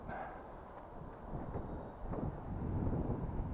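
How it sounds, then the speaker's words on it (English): Gusty wind buffets the microphone outdoors, a rough, rumbling roar that swells and strengthens toward the end with no clear other sounds. "Wind's picking up again a bit"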